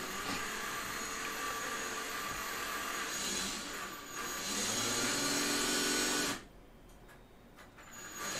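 A power drill runs during the framing of a painting, a loud, close, steady whirring that changes pitch partway through, then cuts off abruptly near the end, leaving a quieter room.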